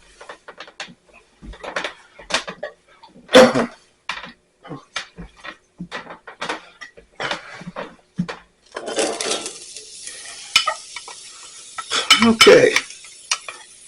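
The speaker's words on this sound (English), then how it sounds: "we want to saute them until they're translucent, maybe just a little bit browned in there" Diced onions sautéing in a pan on a kitchen stovetop, with spoon stirring and clinking against cookware and a steady sizzle building near the end, interrupted by brief speech.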